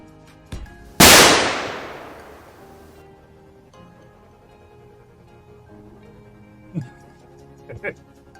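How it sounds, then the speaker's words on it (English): A single loud explosion in a video game bursts sharply and rumbles away over a couple of seconds, followed by quieter game sounds and a few small thuds. "you missed taking advantage of the better explosion, Yuki, for this game."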